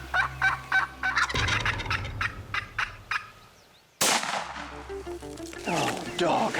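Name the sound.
wild turkey gobbling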